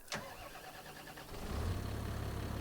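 Tractor engine cranking and catching in Farming Simulator, a brief starter burst followed by a steady low idle rumble that grows louder and settles near and alone.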